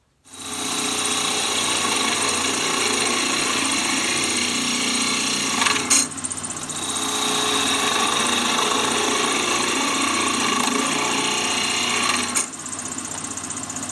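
A bench grinder grinds a woodturning scraper at a 45-degree angle, a loud continuous abrasive whine with two brief dips where the steel lifts off the wheel.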